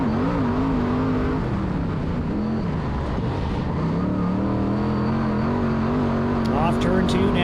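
Race cars roaring around the dirt track at Placerville Speedway on the final lap, a steady engine drone with shifting pitch as they run down the back straightaway, under continuous commentary over the loudspeaker.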